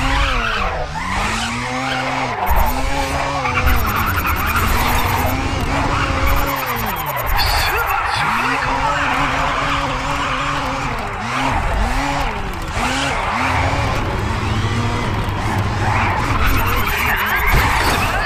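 An RX-7 drifting in the Grid racing game, its tires squealing in long repeated arcs over a loud, continuous engine roar, the screeches rising and falling as it slides through corners.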